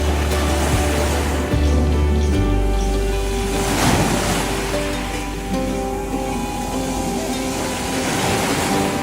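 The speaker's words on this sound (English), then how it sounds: "what an absolutely beautiful beach, as you can see behind me" Surf on a beach near Puerto Vallarta washes in as a broad, steady roar of waves mixed with wind buffeting the microphone, with low rumbling gusts near the start.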